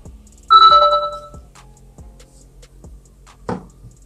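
A Doogee N20 smartphone plays its startup chime as it powers on: a clear, bright, ringing tone near the start, then quiet ticking and a single soft click, with no voices.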